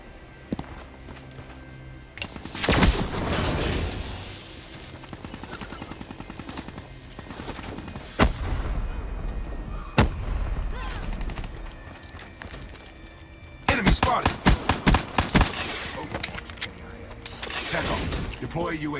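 Hellstorm missile strikes in Black Ops 3 Hunted Domination gameplay land as scattered explosions and sharp bangs, with a dense loud burst near the end, mixed with gunfire and voice callouts.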